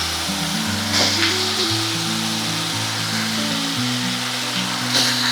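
Prawns fry in hot oil in a kadai, giving a steady close sizzle throughout, accompanied by a layered tonal hum beneath.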